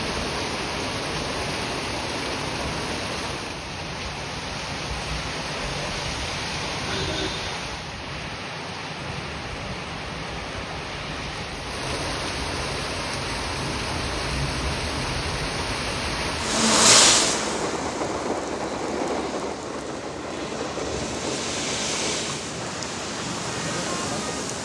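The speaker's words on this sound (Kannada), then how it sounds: "ಆದರೆ ಇದೇ ದಿನ ಚಿಕ್ಕಬಳ್ಳಾಪುರದಲ್ಲಿ ಭರ್ಜರಿ ಮಳೆಯಾಗಿದೆ." Heavy rain pouring down in Chikkaballapur on a Wednesday evening, a steady loud wash of noise that holds for the whole stretch with a brief sharper burst partway through.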